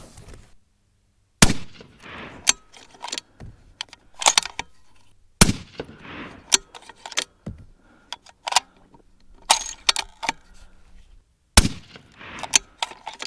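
A Kelbly Preece build rifle fires .223 Remington handloads as a group, sharp loud gunshot cracks spaced a few seconds apart, each followed by softer clicks and handling clatter between shots.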